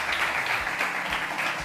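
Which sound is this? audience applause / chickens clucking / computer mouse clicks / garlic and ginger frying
audience applause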